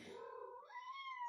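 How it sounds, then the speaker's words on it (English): A house cat meows once in a drawn-out, rising call indoors, fairly faint and heard on its own without talk. "Hello, cat."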